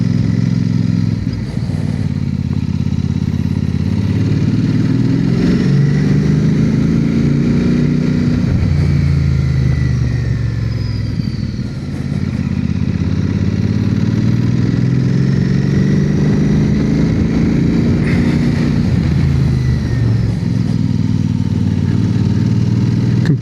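A motorcycle rides through Cheddar Gorge with a steady, loud engine drone. The revs rise and fall in broad repeated swells as the bike works through the gears along the road.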